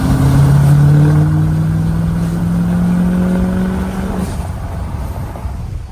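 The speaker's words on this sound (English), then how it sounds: "first drive with the Duramax, and this thing literally sounds like a rocket ship now." A 2019 L5P Duramax diesel pickup truck with an aftermarket exhaust and EGR delete drones with a deep, loud exhaust rumble nearby, the tone rising slowly before easing off.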